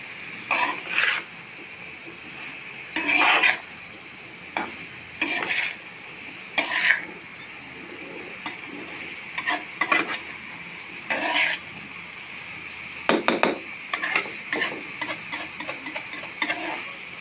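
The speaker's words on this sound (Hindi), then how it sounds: "ताकि हर जगह नमक और जो काली मिर्च है वो अच्छी तरीके से मिक्स हो जाए" Vegetables seasoned with salt and black pepper being stirred in a pan, heard as repeated scraping and clinking strokes of a utensil against metal, near and clear, with a faint frying hiss and no talk.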